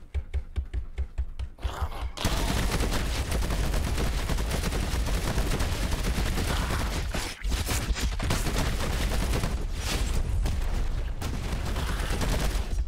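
Rapid gunfire in the video game Dreadhunter, a Diablo and DOOM style shooter: a few spaced shots, then a long, loud, unbroken barrage of automatic fire with brief pauses.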